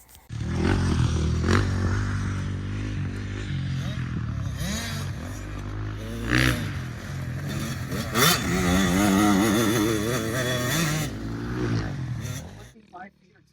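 A motocross bike riding through long rutted dirt corners, its engine droning and revving continuously with rising and falling pitch, loud and close, while someone speaks over it.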